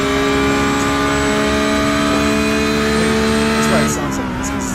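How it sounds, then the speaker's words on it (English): Porsche GT3 race car engine in a racing video game at Sebring, a loud steady high-revving wail held nearly level throughout, with a brief pitch dip near the end as a gear changes; faint talk underneath. "That's why it sounds like this, because it's a Porsche."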